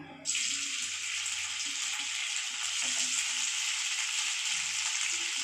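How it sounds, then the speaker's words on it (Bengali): Paneer pieces frying in a pan, a loud hiss that bursts in as they hit the oil and then holds as a steady dense sizzle close by, no one speaking. "আগে আমি প্রথমে পনিরগুলো ভেজে তুলে নেবো"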